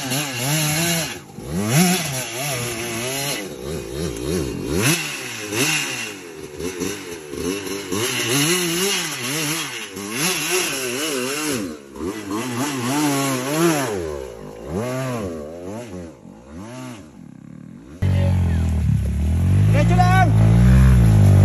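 Trail motorcycle engine revving and straining in wavering bursts on an uphill climb, loud and close, with people shouting over it throughout before a different, louder rumble near the end.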